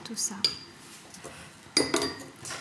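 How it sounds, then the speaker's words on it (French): A whisk or spoon clinks against a bowl while mascarpone is mixed with sugar and egg yolks for a traditional tiramisu. Two sharp metallic strikes stand out among softer scraping, close by and faint. "Le mascarpone, prendre un fouet, puis on va mélanger tout ça."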